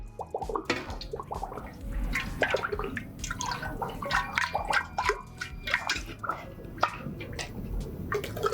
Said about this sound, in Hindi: मैं इन दोनों ही होपर्स के अंदर समान मात्रा में पानी डाल दूंगा।